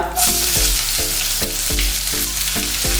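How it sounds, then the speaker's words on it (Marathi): Chopped onion frying in oil in a pan for coconut chutney gives a steady, loud sizzle, broken by a few scraping stirs, with no talk over it. "आपला कांदा फ्राय होतोय ना लाल होतोय ना"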